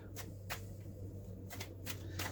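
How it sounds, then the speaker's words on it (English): Quick, crisp riffling snaps of tarot cards being shuffled, coming in short irregular bursts over a low steady hum. "I'm going to give these a shuffle"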